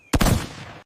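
A 37mm anti-aircraft gun fires one sharp, loud blast with a rolling, rumbling decay lasting most of a second, then another shot begins right at the end.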